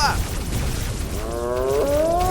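Deer bellows and low roaring calls in Minecraft, with warbling tonal cries rising near the end over a dense, noisy background.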